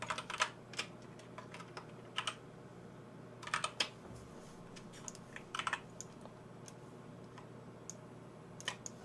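Computer keyboard typing text for a Photoshop design: irregular bursts of soft key clicks, close and fairly quiet, with pauses between short runs of keystrokes.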